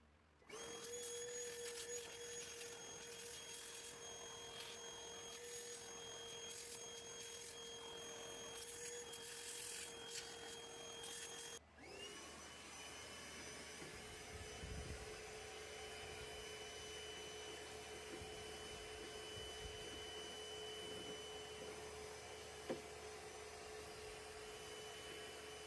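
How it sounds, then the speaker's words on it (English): A vacuum cleaner works inside a Toyota RAV door during window replacement, giving a steady motor whine throughout. The tone shifts partway through and the machine continues with a lower, rougher drone. "So we've got everything vacuumed out that can be"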